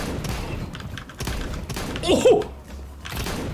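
Tap-fired auto shotgun blasts in Counter-Strike 2 land as a few separate, spaced booming bursts amid game noise, and a voice gives a brief exclamation between shots.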